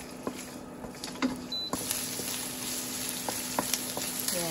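Ginger sizzling in hot cooking oil for a Waray-style buffalo meat stew, a quiet steady crackle with scattered small pops and a faint hum underneath, no talking.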